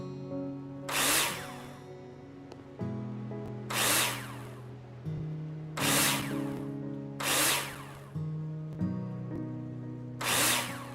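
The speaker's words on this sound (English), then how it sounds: "Take your drill out and screw them in." In a builder simulator game, a power drill drives screws into plasterboard in repeated short whirring bursts over a steady background drone.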